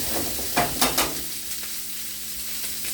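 Green beans sizzling in a hot pan as they are turned, with a steady close crackle broken by a few sharp scraping stirs near the start.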